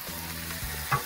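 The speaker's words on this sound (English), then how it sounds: "Just hear that, how it's sizzling there with the charcoal." New York strip steak sizzles steadily in a cast iron pan set over charcoal, a close, even crackle with a brief louder pop near the end and no voices.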